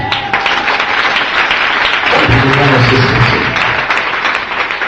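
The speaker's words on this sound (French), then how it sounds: "Acclame Jésus" A church congregation bursts into loud sustained applause and cheering during a French-language sermon, with a preacher's voice heard over the clapping.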